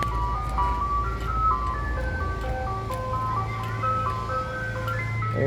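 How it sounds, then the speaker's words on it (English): An ice cream truck plays its jingle as a continuous looping chime melody, with a low engine rumble droning underneath, fairly close and steady throughout. "You got the ice cream truck."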